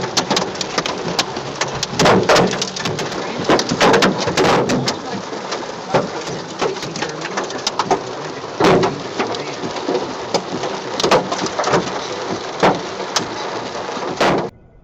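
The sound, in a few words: golf-ball-sized hail falling in Dallas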